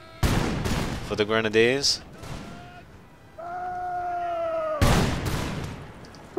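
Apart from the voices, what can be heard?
musket volley fire in video game Empire: Total War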